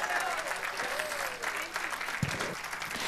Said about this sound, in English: That's what you do when you clap your hands